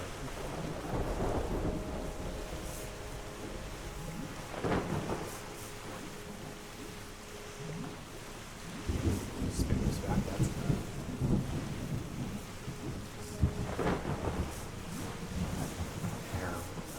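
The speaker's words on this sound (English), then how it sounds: "The rain will restore" Rain and rolling thunder from the video game Terra Nil: a steady rain hiss runs throughout, with several deep thunder rumbles swelling and fading, loudest near the middle and end.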